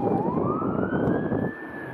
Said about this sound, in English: there's sirens wailing in the city